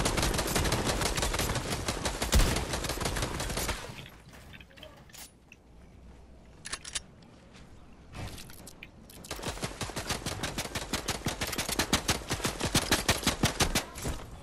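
Rapid automatic gunfire in a Fortnite match bursts loudly in dense volleys, drops to sparse scattered shots in the middle, then returns in fast sustained rattling fire with no talk over it.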